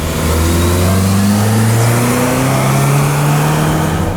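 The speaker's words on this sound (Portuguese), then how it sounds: "quando você faz muita demanda realmente no acelerador, ele trava ali na rotação mais alta" A 2020 Honda Civic LX with a CVT, revved hard and held near the top of its range: a loud, steady engine drone heard from inside the car, with its pitch rising slowly and then staying high, with no talk over it.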